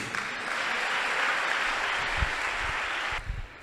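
An audience claps steadily at a church sermon, a dense, continuous patter of many hands that holds throughout and begins to thin at the end.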